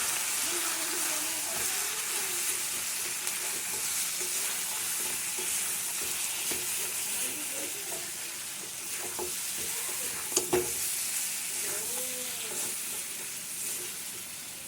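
Turmeric, cumin and coriander powder stirred in a frying pan, a steady soft sizzle and hiss with intermittent scraping of the spoon against the pan, close and continuous, with faint voices now and then.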